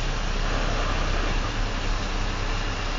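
A truck's diesel engine idles steadily at a trucking school during an air brake pressure test, a constant low rumble with broadband mechanical noise and no talk.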